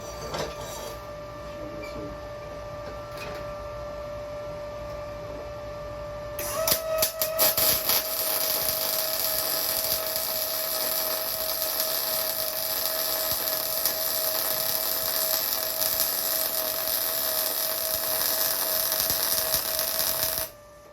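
Arccaptain Mig 200 MIG welder laying a bead: after a faint hum the arc strikes with crackles, then a steady loud hiss and buzz runs on for about fourteen seconds before stopping abruptly.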